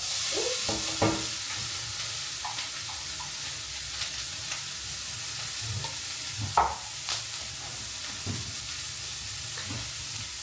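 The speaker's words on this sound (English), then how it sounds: "I have onion and carrot going in the pan" Chopped onion and carrot fry in a pan with a steady close sizzle and hiss, broken by scattered scrapes and clicks as the vegetables are stirred, with no talking.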